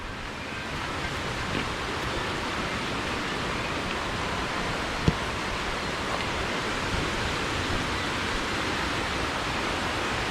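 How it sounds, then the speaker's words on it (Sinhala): A stream tumbles over rocks like a small waterfall on rural land, a constant, even rushing of water with no voices. "දැන් අර ටික නිකන් දිය ඇල්ල වගේ වැටෙන්නේ."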